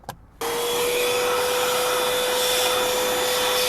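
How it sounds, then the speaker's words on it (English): A vacuum cleaner switches on with a sudden loud whoosh and then runs at a steady close drone with a fixed motor whine while cleaning the removed weather stripping from a Chevy Volt. "I'm just gonna bust out my vacuum real quick."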